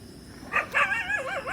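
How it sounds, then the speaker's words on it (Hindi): Dogs barking in the distance on a hillside near a Shiva lingam above the Ganga at Ram Pahadi, Kanpur, a few faint yips and whining barks over quiet outdoor air. "पीछे से कुत्तों की साउंड आ रही है"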